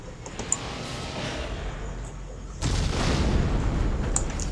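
Deep, rumbling explosions resound aboard a dying ship in the Dead Space video game, a continuous low roar that jumps sharply louder partway through and keeps booming to the end.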